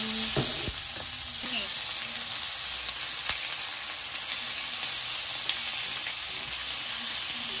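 Pork for a pork sarsa dish sizzles and fries steadily in a pan at home, a dense continuous hiss with occasional stirring clicks, close and fairly quiet, no voices over it.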